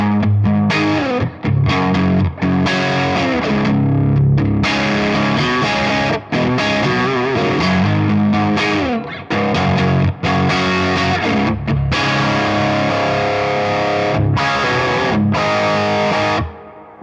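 A distorted electric guitar plays through a Strymon BigSky pedal on its hall reverb setting, dense chords and riffs ringing with a wide wash of sustain and brief gaps between phrases, loud and steady throughout.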